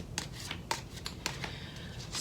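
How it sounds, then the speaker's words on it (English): Tarot cards are shuffled quietly up close, a series of soft papery riffles and snaps in an uneven rhythm. "So the cards have been shuffled"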